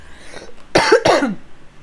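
Two sharp, loud coughs in quick succession, close to the mic, preceded by a faint breathy sound and followed by quiet.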